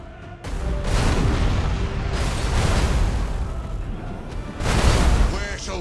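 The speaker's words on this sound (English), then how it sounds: "Initiate Thunderhawk bombardment." Thunderhawk bombardment in Battlefleet Gothic Armada, a space fleet strategy game: a sustained rolling rumble of heavy explosions swells and booms for several seconds, with a fresh louder blast near the end and voices heard faintly.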